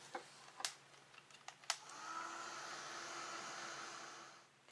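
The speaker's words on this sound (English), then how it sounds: "just dry this off with your heat tool" A heat tool whirs steadily to dry ink on craft paper, starting after a few light clicks and taps and holding a constant, fairly quiet hum before shutting off.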